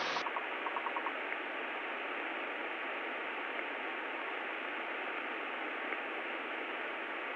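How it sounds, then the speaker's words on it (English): Morse code identifier of the CLL navigation station on a Cirrus aircraft's nav radio: a few short, faint beeps at the start, then a thin steady tone held under constant radio hiss. "so did you hear the Morse code?"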